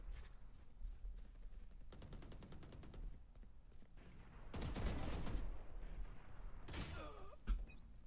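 Gunfire from a video game shooter rings out in several rapid automatic bursts and sharp single shots, loud and close, with no one talking.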